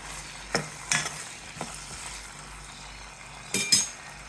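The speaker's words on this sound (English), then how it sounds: "nicely saute the potatoes for at least 5 minutes on a high flame" Potatoes sautéing on a high flame for a beans and potato curry with fresh coconut: a soft, steady sizzle broken by several sharp scrapes and clinks of a spoon stirring in the pan.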